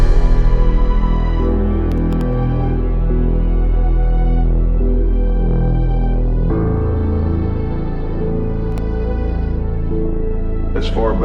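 Dark trap instrumental, layering a brooding piano, violin, a synth pad and a heavy Reese bass; the full mix plays loud and continuous, with the low end thickening partway through.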